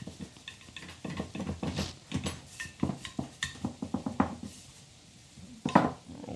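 Gluten-free linguine dough is rolled up on a floured surface, giving soft irregular pats and light knocks with small wooden and utensil clicks, fairly quiet and close, with no speech.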